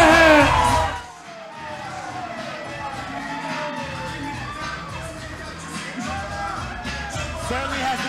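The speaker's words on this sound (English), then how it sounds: "Certainly has the crowd behind him." A fight-night arena crowd roars and cheers for fighter Craig Callaghan, with a sustained wash of yells, whoops and shouting voices.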